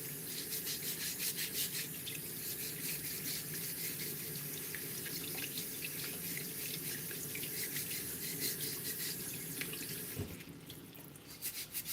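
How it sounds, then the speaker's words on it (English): Parsnips scrubbed with a vegetable brush under running tap water at a kitchen sink, a steady rush of water with rhythmic bristly rubbing throughout, close and fairly quiet. "I'm just gonna brush them with my brushy brush"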